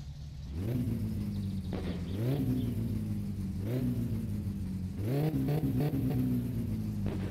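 Datsun Satsuma engine in the game My Summer Car, running a poor fuel mixture, revs up repeatedly in rising surges with sharp backfire pops between them, loud and close with no talk.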